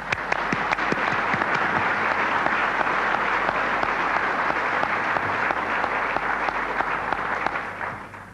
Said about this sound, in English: I applaud them.